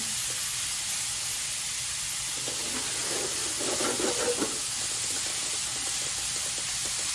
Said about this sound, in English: So go ahead and saute up your chopped portobello mushrooms